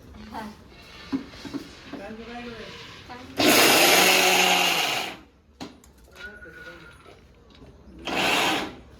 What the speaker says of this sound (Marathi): शेंगदाणे वाटते